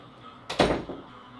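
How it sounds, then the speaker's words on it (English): A door swings shut indoors with a single muffled thud and a short rattle, moderately loud and close, with no voices. "So I'm gonna close the door"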